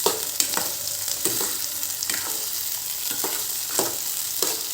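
Capsicum and onion curry fries in a pan, a continuous hissing sizzle close by with regular stirring scrapes roughly every second.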